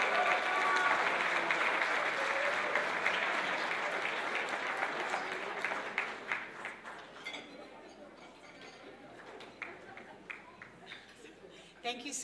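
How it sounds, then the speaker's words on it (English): Applause from a gala audience honoring the event chairs, dense and full at first, then thinning out into scattered individual claps as it dies away. "A big round of applause."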